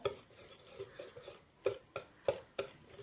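Rava idli batter mixed with curd is stirred in a bowl. A spoon scrapes softly and taps the sides in an uneven rhythm, with a few sharper knocks. It is close and quiet, and no one speaks.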